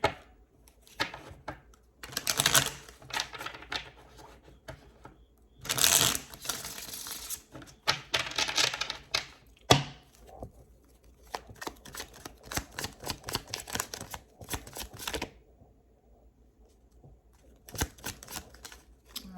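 Crisp bursts of rapid tarot card riffling and flicking, repeated in several bouts with short pauses between, close and fairly loud, no voices.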